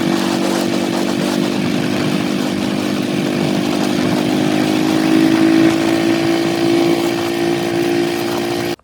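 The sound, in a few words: Bullet motorcycle riding to the field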